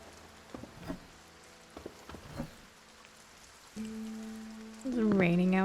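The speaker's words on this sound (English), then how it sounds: "It's raining outside." Rain falls outside a farmhouse in The Haunting of Joni Evers, a steady soft patter under game sounds, with a few thumps and then tonal game audio swelling near the end.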